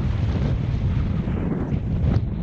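Strong wind buffets the microphone on an exposed mountain hillside as wintry weather sets in, a continuous loud low roar with gusting swells throughout and no voices.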